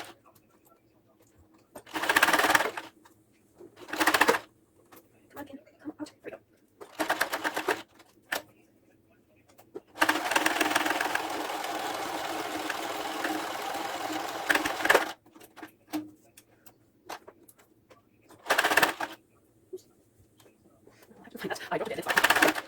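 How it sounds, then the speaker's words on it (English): A home sewing machine stitching a rectangle around pleated fabric runs in short bursts, then one long steady five-second run, then more brief stitching spurts, each loud and close against near silence. "I just sew around in a rectangle."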